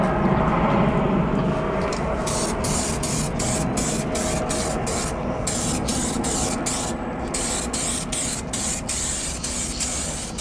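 A rattle can of clear coat paint sprays onto a Skyline's engine bay with a loud, continuous close hiss that holds steady throughout, with no talking.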